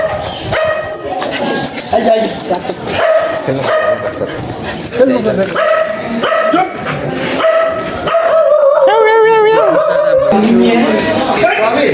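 A dog yips, barks and whimpers repeatedly at close range during a house puja at night, mixed with people talking and laughing nearby.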